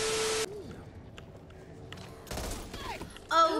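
Video game gunfire: a few short bursts of shots and impacts scattered among other game effects, with a loud burst near the end and a quieter stretch in between.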